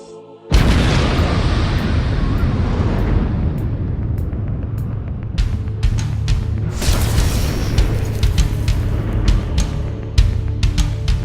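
Rocket launch blast for a crewed Mars mission: a sudden deep roaring boom that holds as a heavy, continuous rumble with crackling bursts, loud and sustained.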